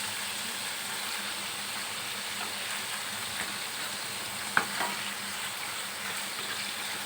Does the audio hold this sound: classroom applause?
no